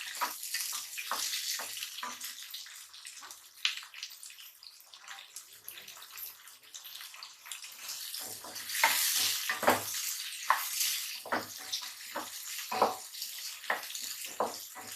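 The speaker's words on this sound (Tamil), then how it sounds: "நல்லா மிக்ஸ் பண்ணிக்கோங்க எண்ணெயிலேயே நல்லா வணங்குற மாதிரி நல்லா மிக்ஸ் பண்ணிக்கோங்க" Dry fish curry ingredients, including potato, are stirred in hot oil in a pan, giving a steady sizzle with repeated scraping strokes that grow busier in the second half.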